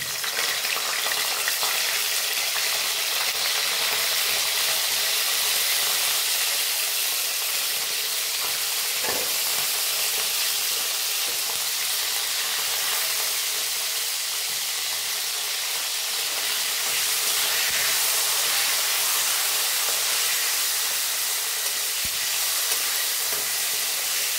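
Cauliflower fries in a pan for vegetable fried rice, giving a loud, continuous, close-up sizzle and hiss of spitting oil that holds steady throughout with no voices.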